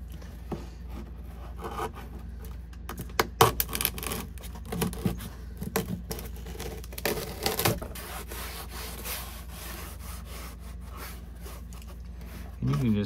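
A sharp knife trims a cracked dash cover on a Chevy LUV, with scraping and rubbing cuts coming in short clusters, close and fairly faint, while someone talks intermittently.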